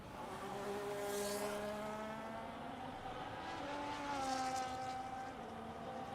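A Ferrari Formula 1 car engine in a racing game drones and whines steadily through a sector of the Qatar circuit, its pitch rising and shifting through gear changes with faint tyre noise underneath.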